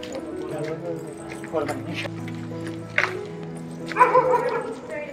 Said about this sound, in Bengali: এখানে এক গাদা ডগি আছে।